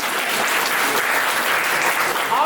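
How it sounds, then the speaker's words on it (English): Steady applause from a live comedy show audience fills the whole stretch, dense and even, with no voices standing out. "Round of applause, yes."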